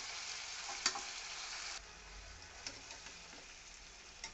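Bottle gourd pieces, added for a prawn dish, fry in a cooked spice paste with a faint, even sizzle. A couple of light spoon scrapes and clicks sit over the hiss, which drops a little halfway through.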